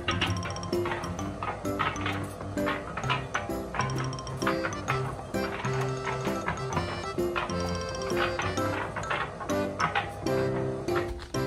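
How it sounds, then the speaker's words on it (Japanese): A Mazetaro concrete mixer drum turning at a fixed speed, giving a steady mechanical rattle with rhythmic clinks and ticking that repeat throughout at close range. "スイッチをオンにするとドラムが回転し始めるんですけど"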